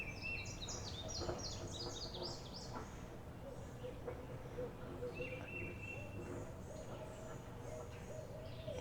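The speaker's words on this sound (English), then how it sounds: "now we got the owls out here calling each other" Owls call faintly in the distance, soft repeated hoots and chirps over a steady outdoor hum in Arkansas.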